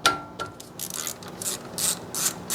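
A ratchet loosens 17 mm front brake bolts on a Honda Pilot, giving quick close clicking strokes in short uneven bursts, with no talking.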